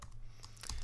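Brief burst of typing on a computer keyboard, a few quick close key clicks at low volume with no speech.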